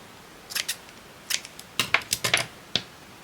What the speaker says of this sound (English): And then we do a little snip around.